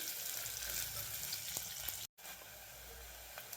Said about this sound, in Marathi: अशा प्रकारे कांदा आपल्याला भाजून घ्यायचा आहे.